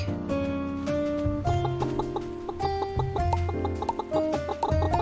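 Chickens cluck repeatedly over a bouncy, melodic tune in the farming game Pumpkin Days, with steady animal sounds layered on the music.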